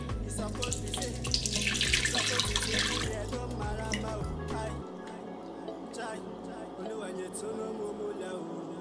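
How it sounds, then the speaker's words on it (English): Banga liquid is poured gently into a cooking pot, giving a splashing, trickling stream for a few seconds before it tapers off, followed by quieter kitchen sounds. "Now, I'm going to gently pour it in the pot."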